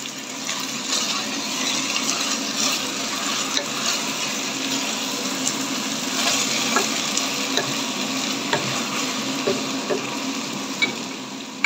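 Chicken pieces seasoned with salt and pepper fry in a pan, giving a continuous close sizzle with scattered stirring scrapes and clicks throughout.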